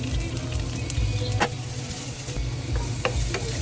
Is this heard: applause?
no